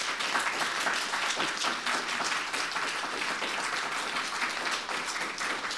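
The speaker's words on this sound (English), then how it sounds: "One more round of applause for our phenomenal panelists" Steady applause from an audience for panelists at a Q&A session, a dense continuous patter of many hands clapping at even moderate loudness throughout.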